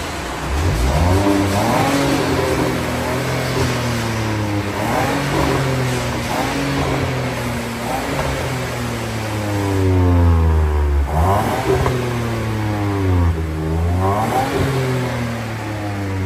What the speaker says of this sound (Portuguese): Guilherme, consegue dar uma acelerada lá? De novo aí, só pra mostrar aqui como é que ficou.